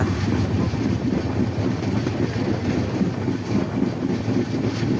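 A passenger train speeds along the rails toward Ishwardi station, heard from on board as a steady, loud rumble with a rhythmic clickety-clack and wind buffeting, and no talk.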